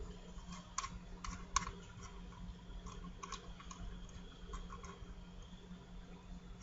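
Keys clatter on a computer keyboard as someone types code, a few sharp clicks standing out over a low steady hum, quiet and close with no talking.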